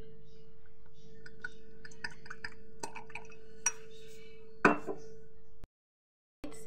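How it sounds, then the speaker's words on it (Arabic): Pizza dough ingredients with olive oil are stirred in a bowl, giving soft scraping and light clinks of a utensil against the bowl, with one sharper knock near the end. A close, quiet, steady hum sits underneath. "وغادي نحرك المكونات ديالي مزيان."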